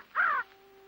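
A single harsh crow caw rings out clearly and briefly in an outdoor scene, followed by a faint steady hum.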